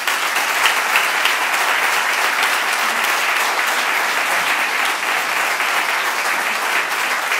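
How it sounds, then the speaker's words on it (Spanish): A crowd at a political party's candidate list presentation claps continuously and evenly, a thick, close wash of applause holding at a constant level throughout with no talk. "Un aplauso."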